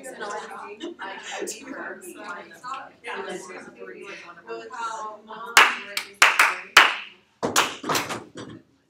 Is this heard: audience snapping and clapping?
yes